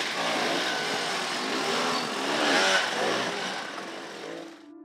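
Off-road motorcycle racing through the Maluti mountains at the Roof of Africa enduro, its engine held at open throttle, a loud, steady, raspy drone that swells mid-way then eases near the end.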